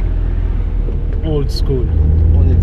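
BMW E36 328i car accelerating in third gear, its engine rumble rising steadily under a man's short spoken remark, loud and close from inside the car.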